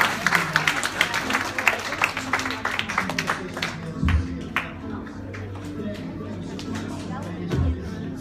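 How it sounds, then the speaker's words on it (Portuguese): Church congregation claps, with irregular hand claps spread through the room while a voice speaks over them and a low musical drone continues underneath. "dê uma salva de palmas para o Senhor Jesus"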